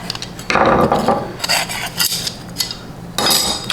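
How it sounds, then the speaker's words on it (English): Metal tools clink and rattle as a screwdriver is picked up among the parts of an old Stanley hand plane being restored, giving several sharp, close clatters in quick succession. "let me grab a screwdriver"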